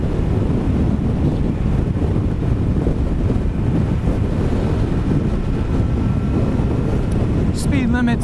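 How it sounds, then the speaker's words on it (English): Continuous loud wind roars across the microphone while a sportbike rides along a road on Maui, a steady rushing blast, with a brief voice or tone near the end. "it sure is windy here, and I can even see debris blowing on the road"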